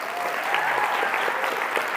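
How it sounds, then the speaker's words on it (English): A lecture audience at Wyoming Catholic College breaks into a brief, steady round of applause, dense and even throughout with no talk over it. "So let's give Wyoming Catholic College a round of applause,"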